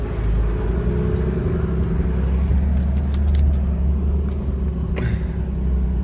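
A car engine revs steadily on a run-up to climb a hill, a loud continuous low rumble with a brief clatter near the end.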